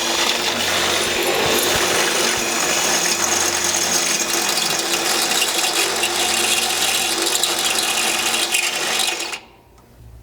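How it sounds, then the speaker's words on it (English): A power drill bores a hole in the factory cross member of a 100 Series Land Cruiser during a gas tank skid install, a loud continuous grinding whir under the vehicle that stops abruptly near the end. "make sure you're pretty much in the center of this slot on the bottom. Get that pushed up tight, and you can drill that hole"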